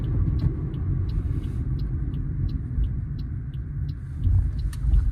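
Peugeot 108 car accelerating, a steady low engine rumble heard from inside the cabin with faint regular ticking, fairly loud and continuous with no talk.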